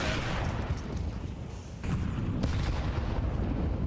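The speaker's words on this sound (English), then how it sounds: "those nades have absolutely annihilated Mopos" Grenades burst in a Counter-Strike 2 match on the Inferno map, a dense rumbling barrage of booms with a heavier blast near the two-second mark, loud and continuous.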